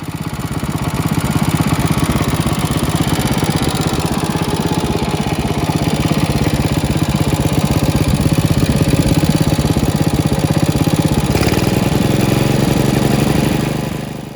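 An old generator engine runs steadily after its repair work, loud and close, with a continuous chugging drone that holds for the whole stretch and then cuts off at the end.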